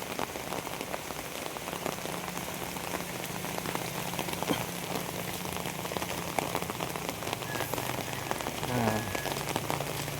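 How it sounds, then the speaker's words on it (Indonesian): Heavy rain pours during the rainy season by the Kali Gendong canal in Cibitung, a dense continuous patter on surfaces with scattered close drips and a faint vehicle passing. "hujan deras."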